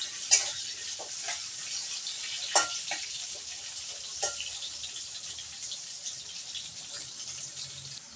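Potatoes frying with turmeric and salt in a pan for a mustard koi fish dish, a steady soft sizzle with a few sharp clinks of a spatula or utensil early on, moderate and close, no talking.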